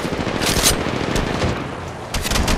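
Rapid bursts of automatic gunfire in the mobile battle royale game Apex Legends Mobile, loud and close, with a sustained stream of shots, a brief lull, then firing resuming near the end.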